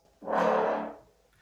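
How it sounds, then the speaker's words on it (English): A single brass stab, punchy and loud, swells quickly and decays over under a second, used in a dramatic pop song arrangement. "And then I've got brass stabs"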